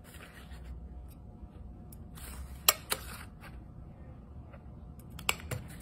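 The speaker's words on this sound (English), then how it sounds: "and punch on that mark." A handheld hole punch pressed through sheets of paper during an art craft project, giving a few sharp, crisp clunks in two close pairs over a quiet, faintly rustling background.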